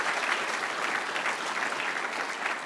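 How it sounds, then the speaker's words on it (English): Audience applause following a presentation by an assistant central bank governor at a banking conference, dense steady clapping from a large crowd filling the room, sustained at an even level throughout. "Please a round of applause for Christopher Kent."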